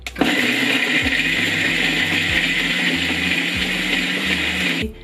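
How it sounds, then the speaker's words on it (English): A blender pulsing a thick smoothie whirs loudly and continuously, its motor grinding at a steady high pitch with a low pulsing throb underneath, then cuts off abruptly. "Add the whole lot to your blender."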